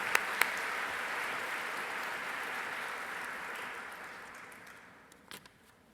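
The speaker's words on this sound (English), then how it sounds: "please join me again in one last round of applause for each of our Nourish Every Mind Golden Apple" Audience applause for event sponsors at a student showcase program, steady broad clapping from a crowd that gradually fades out near the end, with a few faint voices.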